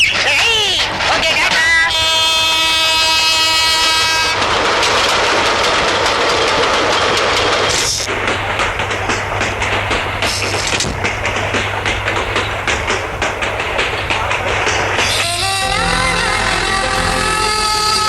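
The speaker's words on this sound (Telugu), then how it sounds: "తొందరగా రా బాబు, ట్రైన్ వెళ్ళిపోతుంది." A train pulls away on its rails with a loud, steady rumble and rattling carriages, a horn-like tonal blast near the start and the end, and people talking and calling out over it.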